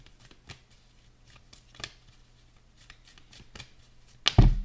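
Tarot cards being shuffled by hand during a reading, soft repeated riffles and flicks at close range, ending in a louder burst of card noise.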